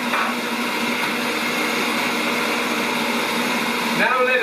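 A Kenwood Cooking Chef Gourmet stand mixer whisks meringue with a steady, continuous motor whir and churning hum, loud and even throughout, ending in a brief change in pitch near the end.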